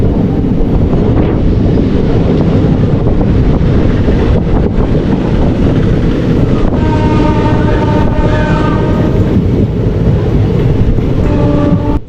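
A passenger train rolls toward Palakkad Town station, a steady loud rumble of wheels and carriage noise buffeted by wind, with faint squealing tones rising near the end; no one speaks.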